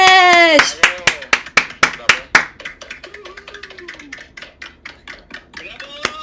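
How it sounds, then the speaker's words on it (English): Scattered clapping over open microphones at an online NFT art event, a few sharp distinct claps up close with a voice cheering loudly at the start, then quicker, softer clapping trailing off. "open your mic and clap it up for VIZMESH"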